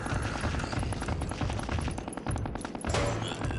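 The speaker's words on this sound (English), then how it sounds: "Assault rifle." Assault rifle fire in a video game rattles in a steady rapid stream of closely spaced shots, loud and continuous, with a brief break and a heavier burst near the end.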